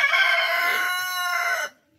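Young guinea fowl keets call together inside a coop, a dense, harsh, layered chorus of shrill cries that holds steady and then cuts off abruptly into near silence.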